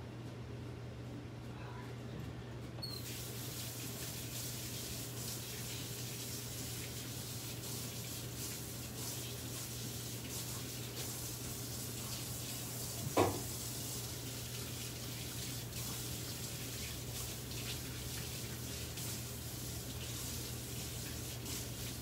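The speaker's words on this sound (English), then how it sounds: "Give me 2 seconds to go rinse my hands off" A water tap runs steadily while plaster is rinsed off hands, giving a faint, even hiss throughout with one brief clunk partway through.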